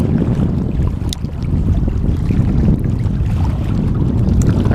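Steady gusting wind buffets the microphone on a semi-windy day out fishing on Mission Bay, a loud, continuous low rumble with a little water movement beneath it and no voices.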